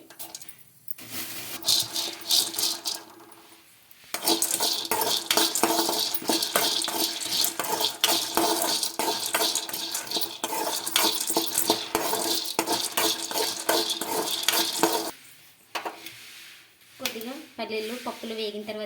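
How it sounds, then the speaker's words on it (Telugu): Lentils (dal) being roasted and stirred in a pan for chutney, giving a continuous dry rattling and sizzling scrape of a spoon against metal that runs loud for most of the clip, with quieter pauses at the start and end. "పప్పులు అయితే వేయించుకుందామండి ఇందులోకి కొన్ని పప్పులు అయితే వేసుకోవాలి"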